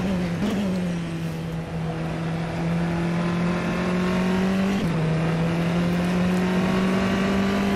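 A Tatuus F3/F4 single-seater race car in the sim game rFactor 2 drones with a steady engine tone, broken by two quick gear shifts that drop the pitch before it climbs again, loud and continuous.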